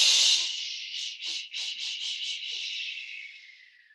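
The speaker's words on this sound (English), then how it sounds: "as you exhale, you're really throwing your breath into the ground" A single long, forceful breath exhaled through the mouth while folding forward in breath work, loud and airy at first, then wavering and fading over about four seconds, alone.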